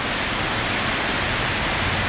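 Heavy rain pours down steadily somewhere in rural northeastern Thailand near the Mekong, a dense unbroken hiss filling the whole stretch with no voices.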